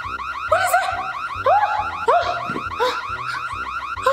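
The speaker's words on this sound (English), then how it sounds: "Oh no, the jack is up! It's the alarm!" A car alarm blares nearby, cycling through loud, rapidly warbling electronic tones and chirps in a repeating pattern, with no talking over it.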